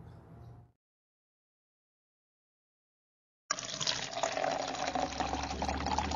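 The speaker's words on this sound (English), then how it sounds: "Listen to the sound of water falling into the basin." Water pours into a basin: a brief faint bit at the start, roughly three seconds of silence, then a steady full splash and trickle of falling water that runs on to the end, fairly close.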